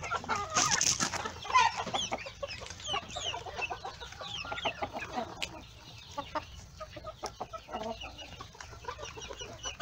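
Ornamental hens cluck busily while a blue rooster calls in their pen, layered bird sounds continuing throughout at moderate loudness.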